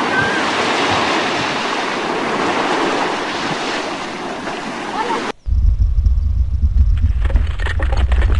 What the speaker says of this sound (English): These waves grow and grow until they are huge and break on the coast.